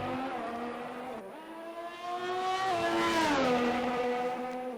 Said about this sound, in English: we watch Echo 3x3 in the Ferrari on his out lap at the moment. He's coming into the third sector now